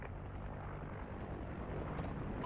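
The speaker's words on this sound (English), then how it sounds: "Friendly chopper inbound." A friendly helicopter from Call of Duty Ghosts arrives with a steady rumbling rotor roar that builds slightly, heard alone under a dense, noisy game soundscape.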